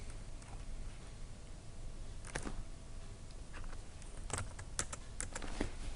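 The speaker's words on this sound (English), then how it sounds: "So just before that, type in the word div" Scattered keystrokes on a computer keyboard while entering HTML code, soft and fairly close, coming in short irregular bursts over a low steady background hum.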